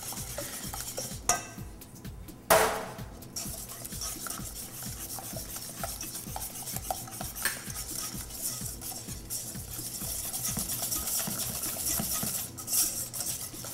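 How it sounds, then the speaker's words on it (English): Batter being whisked in a bowl before flour is added, a close, rhythmic scraping and rubbing of the whisk against the bowl, steady and repetitive with a couple of louder knocks, and no talking. "Careful not to whisk too fast like I just did"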